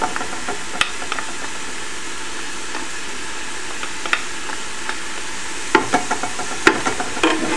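Garlic sizzling in a pan of translucent softened ingredients for a Peruvian-style kaniwa, quinoa and amaranth pilaf, a loud steady frying hiss with clattering stirring scrapes that grow busier toward the end.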